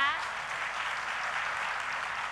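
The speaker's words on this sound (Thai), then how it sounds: "ขอเสียงปรบมือให้กับทั้งสามท่านด้วยนะคะ" Audience applause for three panelists at a mutual fund seminar in Thailand, a steady wash of clapping from a crowd that continues evenly throughout.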